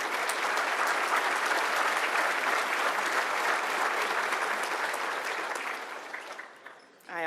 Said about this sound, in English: another round of applause for Miss Baptiste